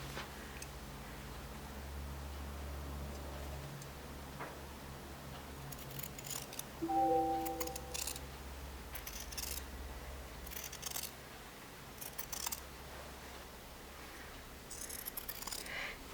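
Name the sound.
scissors trimming a stitched fabric collar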